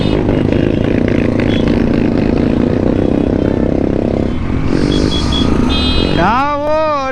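A group of 1500 cc motorcycles at an Independence Day rider meetup in Hebbal, Bangalore, pulls away together, engines droning loudly under excited talk, with one engine revving up sharply near the end.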